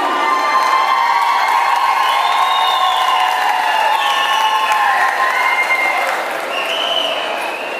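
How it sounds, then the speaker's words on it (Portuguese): Sustained applause and cheering from a large crowd, loud and continuous throughout, with shouts and whoops rising over the clapping before it eases slightly near the end. "A quem ficou, bem merece os aplausos."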